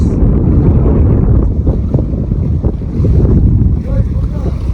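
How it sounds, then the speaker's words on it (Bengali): Loud, strong wind buffeting the microphone in a continuous low roar over a wetland lake in Bangladesh, with waves lapping faintly underneath. "আর প্রচুর বাতাস"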